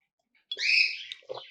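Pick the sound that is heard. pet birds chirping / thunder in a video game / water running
pet birds chirping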